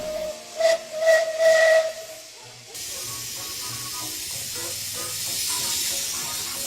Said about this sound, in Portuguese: E quando a água é aquecida, se torna em vapor.